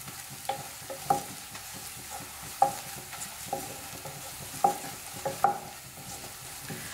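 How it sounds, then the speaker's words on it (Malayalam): Coriander and chili powder frying in a pan over low flame while being stirred: a steady soft sizzle under repeated sharp scrapes and clinks of a spoon against the pan, close and moderately loud, with no talking. "ലോ ഫ്ലെയിമിൽ വെച്ചിട്ട് ഇളക്കി കൊടുക്കുക"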